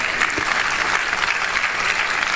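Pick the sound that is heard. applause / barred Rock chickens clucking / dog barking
applause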